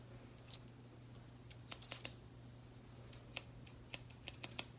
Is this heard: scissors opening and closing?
yes